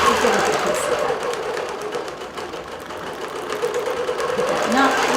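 A sewing machine stitching a quilt runs in a continuous close whirring drone for several seconds, steady and fairly loud with a light mechanical rattle.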